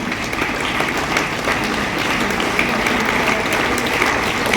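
An audience applauds at a school block-level science fair, steady dense clapping from many hands that holds throughout.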